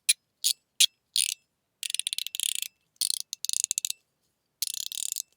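A Rebound mechanical fidget slider clicks and ratchets in short crisp bursts, single snaps at first, then rapid clattering runs separated by brief pauses, close and alone.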